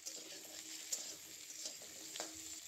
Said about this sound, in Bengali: ভালো করে ভাজা ভাজা করে নিচ্ছি।